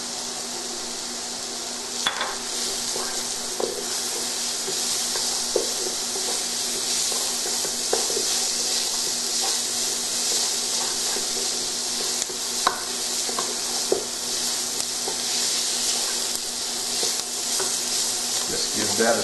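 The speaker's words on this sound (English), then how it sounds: "Just give that a stir for about a minute." Cinnamon and garlic sizzle in a pan with crushed tomato nearby, a steady loud hiss running throughout, broken by occasional soft scrapes and clicks of stirring.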